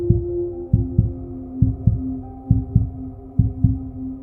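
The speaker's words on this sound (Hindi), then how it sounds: "वह अपनी धड़कनें साफ सुन सकता था और बहुत पसीना आ रहा था।" A steady, deep heartbeat thumps in regular double beats over a low hum, a dramatic sound effect for a horror story, loud and continuous with no voices.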